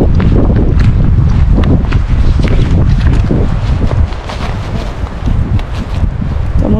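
Strong wind buffets the microphone outdoors on a farm in Valåst, Porsgrunn, Norway, a loud continuous low roar with gusting rumbles throughout, no talking.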